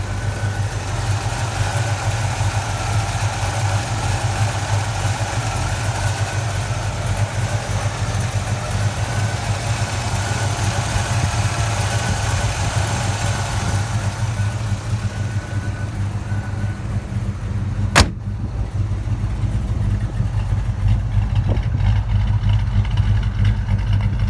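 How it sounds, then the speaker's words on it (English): A 1937 Ford restomod hot rod idles with a steady, deep low rumble that holds constant throughout, close and loud with no speech, broken only by one brief click near the end. "now you can hear a little bit of that beautiful hot rod rumble"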